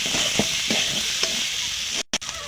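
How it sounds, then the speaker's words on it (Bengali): Masala spice paste of chilli powder and ground spices frying for egg curry, a steady close sizzle with a few stirring scrapes and a brief cut near the end. "মশলাটা আর একটু ভালো করে কষিয়ে নেব।"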